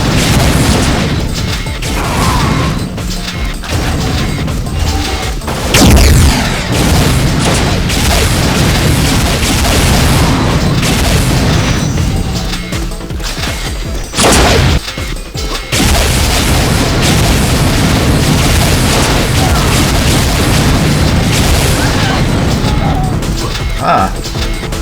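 Rocket launcher shots and explosions in an Unreal multiplayer match, loud and nearly continuous, with repeated booming blasts and crashes layered over dense game noise.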